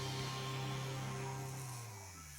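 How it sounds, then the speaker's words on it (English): A VGR 082 electric hair trimmer with a deep-tooth blade buzzes steadily while cutting through bulky hair, a quiet close-up motor hum that sags slightly in pitch near the end as the blade meets the hair. "So let's make a quick test on this trimmer, on this bulky hair."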